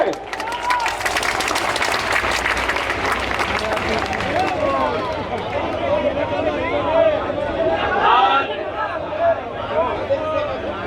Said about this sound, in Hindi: स्वागत कीजिए जोरदार ताली से।